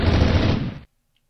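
Rapid automatic gunfire from a Minecraft modded survival-game weapon, a dense loud burst lasting under a second that cuts off abruptly into silence.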